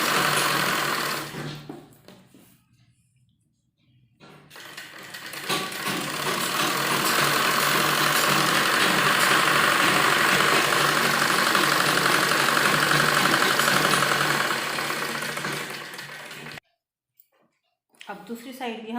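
Sewing machine running in a long steady burst of rapid stitching along the folded hem of a palazzo's inner lining, starting and stopping abruptly, with a quieter stretch of handling before it.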